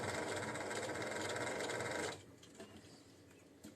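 A sewing machine stitches a lining into a crochet granny-square tote, running in a fast, steady whirring buzz for about two seconds before stopping, followed by quiet handling noises, close and fairly soft.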